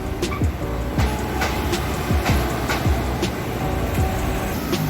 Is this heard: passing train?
yes